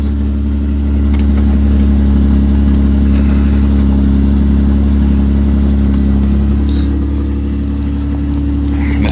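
A 2000 Toyota Camry Solara idling on old fuel, a loud, steady close-up engine drone with a constant low hum and no revving, running alone.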